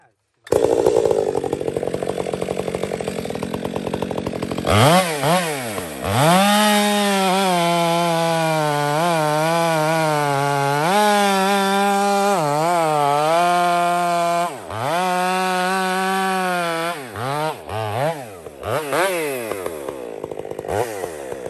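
A Husqvarna 371XP and a Stihl chainsaw with hand-filed chains cutting wood: after a quieter opening the engine screams up loud and steady, its pitch dipping and recovering repeatedly under load.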